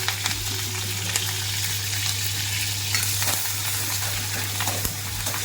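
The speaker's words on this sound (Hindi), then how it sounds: "ये देखो संगवारी हो मिर्ची कैसे फूटा तो मस्त है ना।" Green chillies frying in hot oil with mustard seeds, cumin and garlic, a dense close sizzle broken by sharp crackling pops, with no talking.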